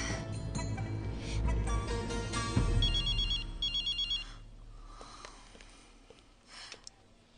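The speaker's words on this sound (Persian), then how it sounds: "آن زنگ می رود." A telephone rings indoors with two short, bright electronic ring bursts over a low background hum, then fades to near quiet.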